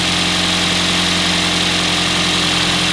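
A car engine idles steadily during an ignition coil test with a known bad coil, a continuous even rumble with a strong low hum and broadband hiss throughout, close and loud with no talking.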